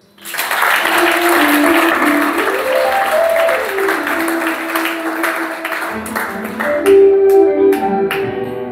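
Church congregation applauding together, sustained dense clapping from a large crowd filling the room, with a sustained musical tone running underneath and a few louder claps toward the end.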